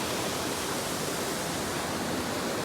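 The Shitkada waterfall rushing on a rappelling trek, a loud, dense, unbroken roar of falling water, steady from start to end.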